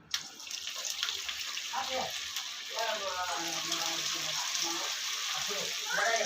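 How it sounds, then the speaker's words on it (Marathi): Sabudana vada frying in hot oil in a pan, a steady broadband sizzle running throughout with a brief sharper burst near the start as the vada goes in, while a voice talks over it. "एका पॅनमध्ये आम्ही तेल गरम करायला ठेवलं आहे आता आपण एक वडा घालून घेऊया त्यामध्ये"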